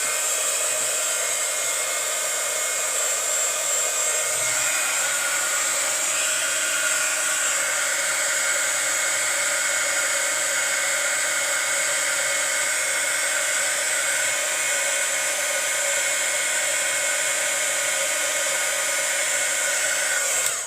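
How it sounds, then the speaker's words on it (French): A heat gun blows a steady, loud whirring roar of hot air to melt embossing powder on a handmade card, running continuously with no talk. "Alors, pistolet chauffant."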